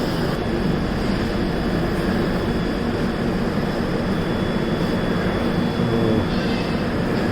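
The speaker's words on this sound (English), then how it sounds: "Train is leaving." Continuous heavy rumble of a train departing a station on double track in Kerala, India, with steady mechanical roar and faint tonal hum, close and loud with no voices.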